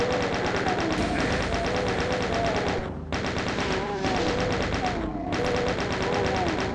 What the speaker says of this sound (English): I think my chain gun is needed here.